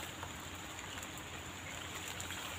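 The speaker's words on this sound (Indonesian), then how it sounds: "posisi cuaca gerimis bos" Light drizzle falls at an outdoor fishing spot, a soft, even hiss of rain that stays faint and steady throughout, with no talking.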